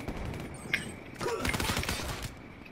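Gunfire in the multiplayer shooter Call of Duty: Black Ops III, a single sharp shot followed by a dense, louder burst of rapid automatic fire with a metallic clatter, heard alone at moderate distance.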